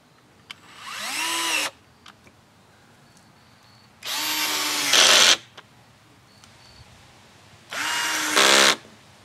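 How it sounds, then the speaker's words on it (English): Cordless drills on their lowest clutch setting driving a small screw, three separate bursts of high whirring motor each lasting over a second, the last two ending with a ratcheting clutch chatter, close and clear with quiet gaps between. "the Milwaukee drilled the screw the deepest"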